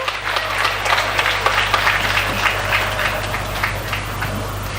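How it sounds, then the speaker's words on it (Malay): A crowd at a Malaysian political rally for the People's Justice Party president breaks into sustained applause, a dense, even wash of many hands clapping that carries through without a break. "kita berikan tepukan untuk Presiden Parti Keadilan Rakyat, Datuk Seri Anwar Ibrahim"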